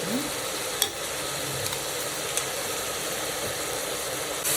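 Tomato and raw masala with coriander and salt fry steadily in a pan, a soft continuous sizzle with a few faint clinks of stirring, no voices.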